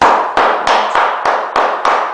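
A hammer taps repeatedly on laminate floor boards, giving seven sharp, loud, close strikes at a fairly even pace. Each blow has a short ringing tail and no one speaks.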